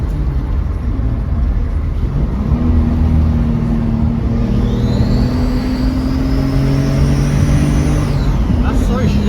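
Turbocharged Nissan S13 with anti-lag, a loud droning engine with a rising whine and steady rumble close by, a voice heard over it.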